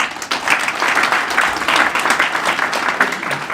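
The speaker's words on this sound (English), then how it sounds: "So kindly join me to give a hand of applause to him" Applause from an audience at a formal gathering honoring a guest, a continuous, fairly loud patter of many hands clapping that sustains evenly throughout.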